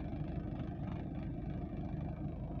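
A 1991 Suzuki Esteem 1.3 car idling with the air conditioning switched on, giving a steady, low mid-pitched engine hum heard close up and continuous, with no talking.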